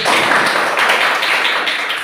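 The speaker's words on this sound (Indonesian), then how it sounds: "Tepuk tangan untuk si Belvin" Classroom applause for a student, a steady wash of many hands clapping together, close and loud, sustained for about two seconds.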